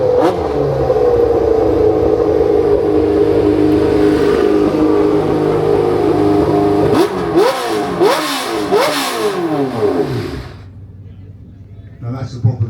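A powerful V8 car engine idles with a loud rumble, then revs sharply three times in quick succession before cutting off; crowd noise from a classic car show hangs in the background.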